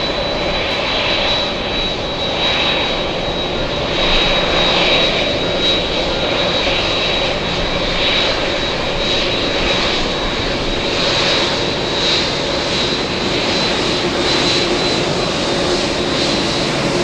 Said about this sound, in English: Alright, let's go over to the 787 Dreamliner parking.